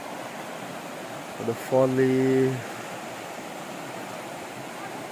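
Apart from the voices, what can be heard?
river flowing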